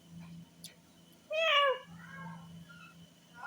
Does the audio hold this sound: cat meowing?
yes